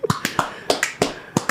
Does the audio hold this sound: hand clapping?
yes